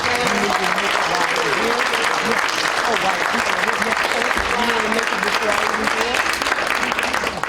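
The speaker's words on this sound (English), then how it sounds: "So let's give a round of applause to our" Sustained audience applause fills a room, dense steady clapping at close range that holds at an even level throughout, with no clear voices rising above it.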